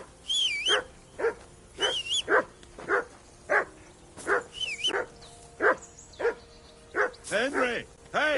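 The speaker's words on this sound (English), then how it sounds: "Call off that mutt of yours!" A dog in the medieval game Kingdom Come: Deliverance 2 barks repeatedly in short, evenly spaced yaps, close and fairly loud, with whimpery pitch bends and voices talking between the barks.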